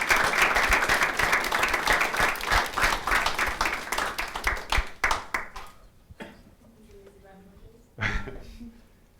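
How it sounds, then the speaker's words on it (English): An audience claps and applauds at a business masterclass, dense and loud at first, then thinning to scattered claps before one last burst, with a bit of voice in the background. "Can you give a round of applause for Caroline, please?"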